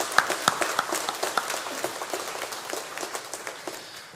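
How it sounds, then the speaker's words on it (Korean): A church congregation claps in a Sunday worship service, a fairly faint, rhythmic patter of many hands heard from a distance, with sharp claps standing out near the start. "하나님께 영광의 박수 올려드리겠습니다"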